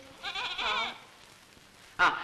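Young goat bleating in an old Malayalam film scene, a wavering drawn-out bleat near the start and a second sharp cry near the end, close and clear over a quiet background.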